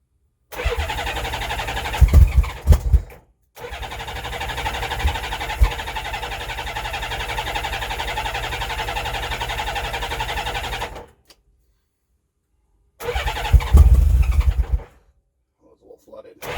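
A motorcycle engine in sub-freezing cold cranks with a steady whirring starter in several long bursts separated by pauses. It sounds close and fairly loud, with a few rougher catches and thumps that suggest it nearly firing.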